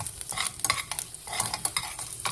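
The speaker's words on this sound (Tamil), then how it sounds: "பூண்டை நான் வதக்கிட்டு" Garlic sautéing in a pan for a Punjabi-style dal tadka, with steady close sizzling broken by bursts of stirring and scraping throughout, no voices.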